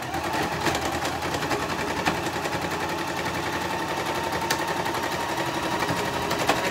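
A sewing machine stitches through flannel for a chalk couture gift package, a steady, fairly loud mechanical whir running throughout with faint regular clicks and a few sharper taps.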